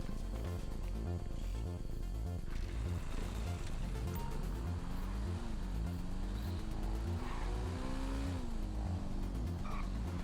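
A motorbike ridden across Cayo Perico in GTA Online, engine droning steadily with rising and falling pitch as it accelerates and shifts, plus light tire noise; no talk.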